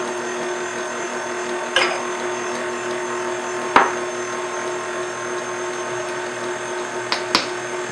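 Steady electric mixer whir beating blue velvet cupcake batter after eggs are added, continuous motor drone with a few sharp knocks of the beaters against the bowl.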